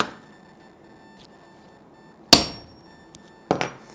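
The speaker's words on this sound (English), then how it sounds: "Then we'll hit it with a center punch and drill it out." Two sharp metallic hammer strikes on a center punch set against a motorcycle handlebar during a Honda CBR/VFR800 hybrid build, the second followed by a quick lighter tap, each ringing briefly in a quiet workshop.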